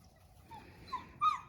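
A puppy gives a few faint, thin whimpers and whines against a quiet background, the last one a little louder.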